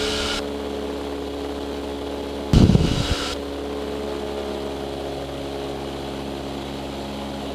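Inside the cockpit of a Cessna propeller trainer flying touch-and-go landing circuits, the engine drones steadily with a constant hum, briefly broken by a short burst of rattling noise midway, and no one speaks.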